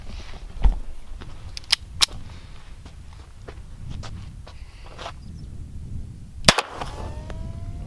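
A Mosin Nagant rifle is fired at cast iron skillets outdoors. A few sharp, sudden cracks are spaced several seconds apart over a quiet background with faint rustling.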